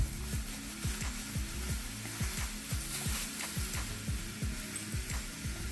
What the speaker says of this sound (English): Next, I'm going to add my Italian sausage and my hamburger meat.